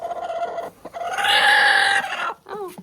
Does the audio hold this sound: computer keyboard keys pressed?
no